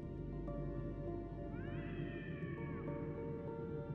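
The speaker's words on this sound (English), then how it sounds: "I just heard a cat meow, by the way." A single drawn-out cat meow rises and falls over a steady background hum, faint and somewhat distant.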